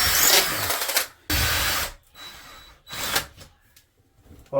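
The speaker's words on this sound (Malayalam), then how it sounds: "ഒരു ഡ്രിൽ എടുക്കുക കേട്ടോ" Power drill boring holes for roller blind brackets, running in loud bursts of about a second each with short pauses between, close by and with no speech.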